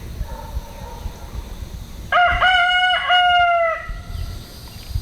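Chicken by its coop giving two loud, drawn-out, crow-like calls back to back, close by, over a quiet outdoor background, with no talking.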